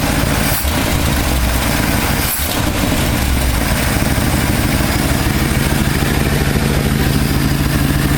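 A rebuilt engine in a 1968 Ford F250 pickup, not yet fully warmed up, runs at a steady idle close by, with two brief dips early on.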